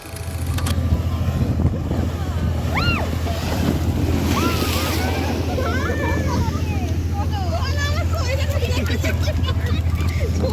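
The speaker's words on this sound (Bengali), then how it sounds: "আর এখানে আসছে মুহুর মুহুর ঢেউগুলো এসে ধাক্কা খাচ্ছে" Sea waves break repeatedly at the Digha Mohana estuary, producing a steady, loud surf roar mixed with wind buffeting the microphone and faint background voices.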